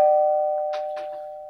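A bell rings out once as a sound effect, its clear tone sustaining and slowly fading across the whole moment, with a few faint rustles underneath.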